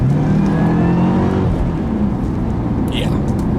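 Supercharged 2009 Cadillac CTS-V pulling hard, engine and exhaust roaring up through the revs with a rising whine, loud and close throughout.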